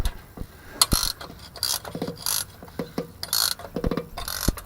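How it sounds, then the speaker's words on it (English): Ratchet wrench turning a bolt while tightening a truck brake chamber, sharp mechanical clicks in irregular bursts, close and fairly loud with short pauses between strokes. "And put your ratchet on it."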